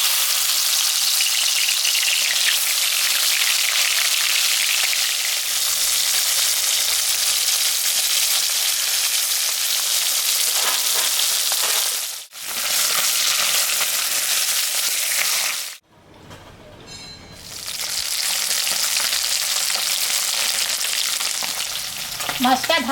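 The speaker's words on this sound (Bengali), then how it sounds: "তেল গরম হয়ে গেছে, আমি এখন মাছটা ভাজবো।" Rohu fish seasoned with salt and turmeric fries in hot mustard oil, a loud, close, continuous sizzle broken by two brief dips, likely as the pieces are moved or turned.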